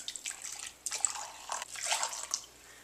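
Boiling water poured into a cup for Taiwanese boba tea, a soft liquid splashing and trickling in several short bursts, close and fairly quiet with no talking.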